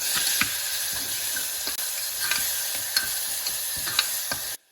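Mustard seeds, cumin, asafoetida and dried chilies temper in hot oil in a pressure cooker, giving a bright, continuous sizzle with irregular sharp crackles and pops that stop abruptly at the end.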